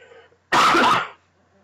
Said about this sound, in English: I will most likely cough a lot through this video